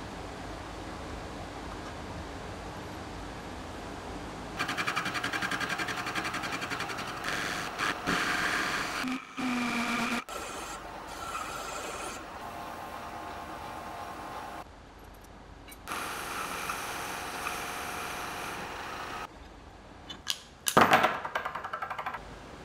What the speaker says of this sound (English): I made this really quick jig to be able to hold this in the lathe